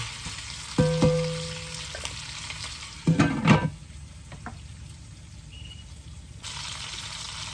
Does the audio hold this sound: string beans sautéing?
yes